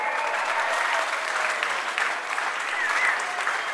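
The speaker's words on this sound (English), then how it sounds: "Let's give them a big old applause" Crowd applause at a Cesar Chavez rally with Dolores Huerta, steady and dense clapping filling the whole stretch, with a few faint whoops rising over it.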